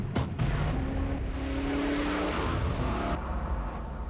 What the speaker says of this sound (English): Zero to 60 in less time than a Porsche Panamera S. The 429 horsepower Genesis R-Spec from Hyundai.